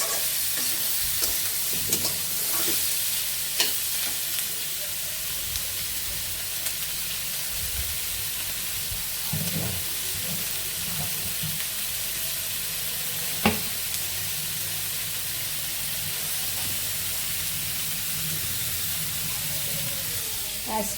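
Vegetables with onion, ginger-garlic paste, coriander and chili powder fry in a pan with a continuous close sizzle, punctuated by intermittent scrapes and knocks of stirring, and a voice briefly heard over it.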